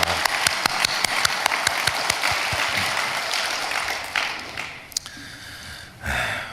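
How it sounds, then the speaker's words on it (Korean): Church congregation applauding during an early-morning prayer service, a dense burst of many hands clapping that fills the room, then thins out and fades after a few seconds. "우리 하나님께 영광의 박수를 올려드리겠습니다."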